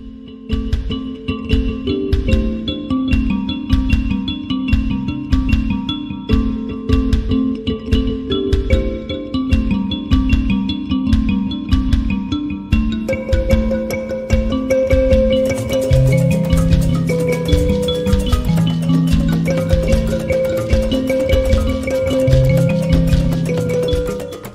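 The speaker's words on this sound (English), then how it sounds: "This is the sound of mibira." An African mbira, a thumb piano whose metal tines are plucked with the thumbs, plays a steady, repeating rhythmic pattern of bright plucked notes, and the texture thickens later as the music continues.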